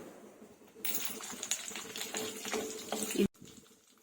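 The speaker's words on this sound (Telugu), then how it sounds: "ఇందులో నెయ్యి వేసి వేడి చేసుకోండి ఇందులోనే కొన్ని బోడంలు వేసుకుందామండి" Almonds hit hot ghee and set off a steady, close crackling sizzle with small pops, then stop abruptly near the end before fading to quiet.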